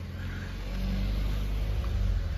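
A car engine rumbles steadily at low pitch and swells slightly partway through, as if revving a little. It sounds fairly close and moderately loud, with no voices.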